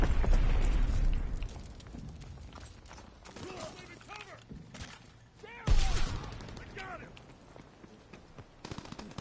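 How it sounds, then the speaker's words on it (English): Mortar shells exploding in the World War II shooter Call of Duty WW2, a loud booming burst at the start and another sharp blast midway, with gunfire-like crackle and game voices talking between the impacts. "Enemy mortar fire incoming."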